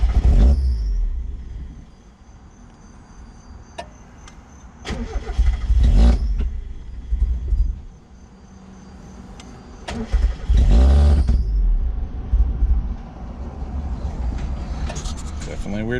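A Mazda MX5 Miata with its mass air flow sensor disconnected cranks and catches in several separate bursts, its engine briefly running and dying between quieter gaps, close and fairly loud.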